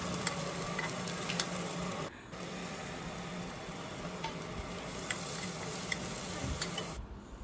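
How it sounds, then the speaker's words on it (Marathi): Onion sautés in a pan for a Malvani-style cabbage and dry fish dish, giving a loud, dense, continuous sizzle with faint stirring ticks, briefly dipping twice, with no voices. "कांदा चांगला परतून घ्यायचा।"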